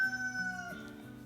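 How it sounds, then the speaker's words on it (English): A rooster crows nearby outdoors, a single long tonal call that holds and then drops into a lower, hoarse ending, heard alone with no talk. "sorry about that, the rooster."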